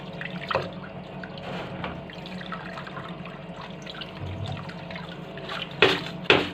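Tap water runs and trickles over fenugreek soaking in a bowl, a soft continuous splashing with a couple of louder bursts near the end.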